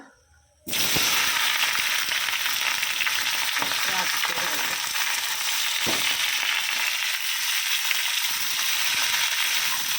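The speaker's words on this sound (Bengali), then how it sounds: "দিয়ে দিয়েছি লঙ্কা আর ফোড়নে তুলে দেবো এটা" Chilies dropped into a hot spice tempering burst into a loud, crackling sizzle almost immediately and keep spitting and popping steadily throughout.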